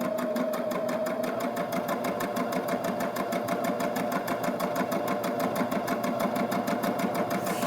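Baby Lock Jazz II sewing machine stitching decorative stitches, a fast, even mechanical chatter of needle strokes running steadily and close without a break.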